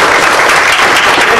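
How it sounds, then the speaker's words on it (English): An audience at a youth provincial election engagement session applauds loudly and continuously, a dense close wash of clapping for the whole moment. "Give them a big round of applause."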